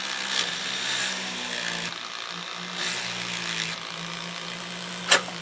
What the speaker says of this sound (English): using a 3mm high-speed steel burr to smooth that portion